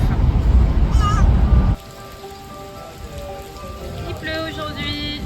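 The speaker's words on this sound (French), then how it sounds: "Il pleut aujourd'hui." Heavy rain drums loudly on a truck camper for a couple of seconds, then cuts to a quieter patter with faint tones and light chirps over it.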